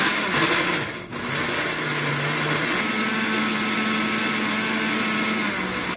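A kitchen blender loaded with radish, a handful of garlic cloves and about 200 ml of water grinds at high speed, a loud, steady whirring drone with a brief dip as the motor catches.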